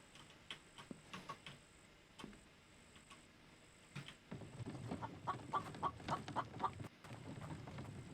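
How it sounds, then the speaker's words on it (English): Chicken clucking in the village of The Infected video game, short bird calls in scattered bursts over steady game ambience and footsteps, growing busier and louder toward the end. "Almost stepped on a chicken."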